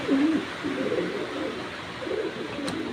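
A male pigeon calls with a few low, close coos in short bursts, fairly quiet against a soft background hum.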